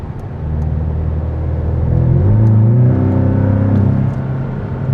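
A 2019 Porsche 718 Cayman with a PDK gearbox and a turbocharged boxer four-cylinder engine drives steadily from inside the cabin, its engine note rising and shifting under a constant road rumble. No one speaks.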